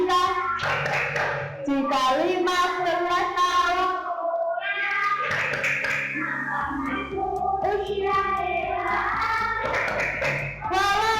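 A group claps a rhythmic chant pattern, the tepuk tanda balik, with sharp claps set between voices that chant and sing the words together, steady and close throughout.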